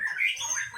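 A brief, fairly quiet phrase of bright whistled notes from a young white-rumped shama, sung alone without any voices.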